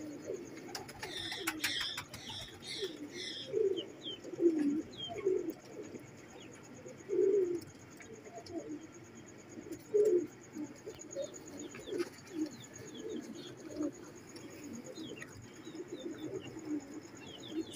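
A pair of Teddy pigeons, the female sitting on eggs, coo in soft, repeated low calls spaced across the stretch, fairly quiet and close, with a few brief chirps from other birds.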